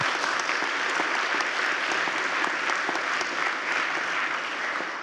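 A conference audience of Polish students in Britain breaks into sustained applause, a loud, dense, even roar of clapping filling the hall that tapers slightly at the end.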